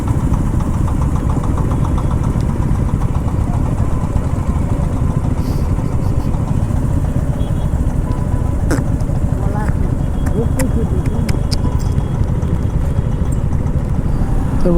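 A motorcycle engine runs steadily during a long bike ride with friends, a loud, continuous low drone with constant vibration, while voices talk over it.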